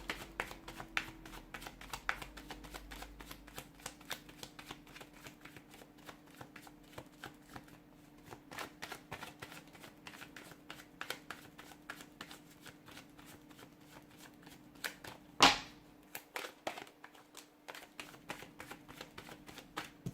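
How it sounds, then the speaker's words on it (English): Tarot cards shuffled by hand in a steady run of soft, close riffling taps with a low steady hum behind, a brief sharper snap near the end. "I've put those cards back in the deck"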